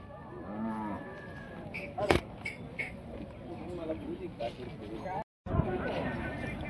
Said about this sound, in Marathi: जनावरांचा बाजार चांगला भरला आहे